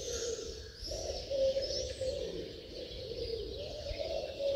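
Doves coo softly and continuously in an open field, a low murmuring call repeated over a steady outdoor background with faint higher bird chirps.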